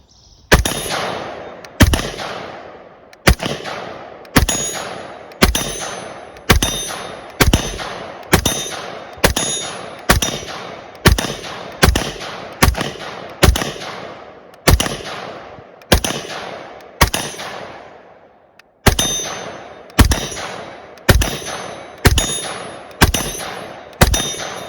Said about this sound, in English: I'm probably gonna shoot half this magazine just to show you all that it does work.